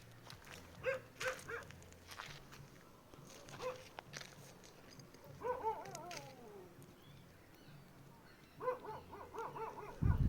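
Dogs bark at night at a distance, faint scattered yelps and short barking bursts over a low hum, with soft rustling nearby.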